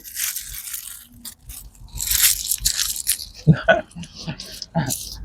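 Crunchy bites into a KFC chicken burger during a taste test, several crisp crackling bites in close succession heard up close, with chewing sounds between them and background talk.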